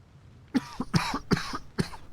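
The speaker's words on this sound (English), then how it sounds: "Oh, this cough can go away." A person coughs in a home setting, four or five harsh, close coughs in an irregular run after a quiet start, with no talking.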